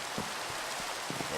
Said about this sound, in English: It's dark, it's rainy.